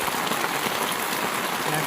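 Heavy rain pours down in a dense, steady broadband hiss that fills the whole clip, loud and close, with no clear voices over it.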